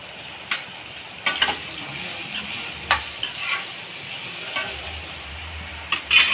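Eggplant frying in oil with garlic and chili, stirred in a pan: a steady close sizzle with repeated scraping strokes of the spoon, some sharp clinks against the pan, and no talking.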